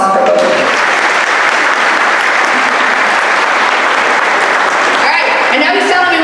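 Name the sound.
crowd applause at opening ceremony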